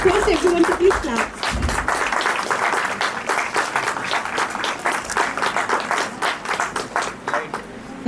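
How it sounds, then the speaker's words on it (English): Audience clapping at an advanced endodontics dental workshop at a college, steady applause of many hands lasting throughout, with murmured voices faintly underneath. "request everyone to please clap."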